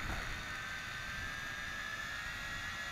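A Tarantula X6 drone flies out over a field and turns in the wind, its motors giving a steady high whine with a thin tonal edge, moderately distant and constant, with no voices.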